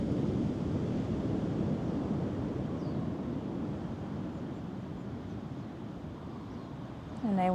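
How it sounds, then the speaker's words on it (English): Ocean surf at Hanalei Bay, Kauai, washes in as a soft, continuous low rush behind the listener, steady and moderately distant, with light wind noise and no voices. "listen to the sound of the waves behind me"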